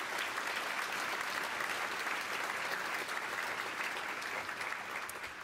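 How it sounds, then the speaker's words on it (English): Another round of steady audience applause rises at a congressional swearing-in ceremony held at UCLA, moderately distant and even, tapering slightly at the end. "Let's have another round of applause"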